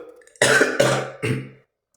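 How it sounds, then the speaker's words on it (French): Three harsh coughs in quick succession, close and loud, followed by silence. "désolé, j'arrête pas de tousser"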